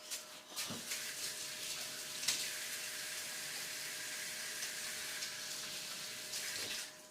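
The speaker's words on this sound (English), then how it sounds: "Right now I have to wash my hands." A running tap pours a steady stream of water while hands are washed under it, a close continuous splashing that lasts the whole time, with a few soft knocks and no talk.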